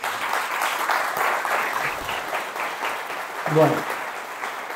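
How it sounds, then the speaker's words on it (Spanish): Audience applause for a cultural corporation at a documentary presentation, a steady mid-level clatter of many hands with a voice briefly speaking over it near the end. "quiero un aplauso pues, a esta corporación"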